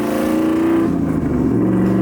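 A Chevrolet Silverado pickup with an LS1 V8, T56 manual gearbox and 4.56 gears pulls away from a stop. The engine roars loud and close as it revs up, then the pitch shifts as it climbs.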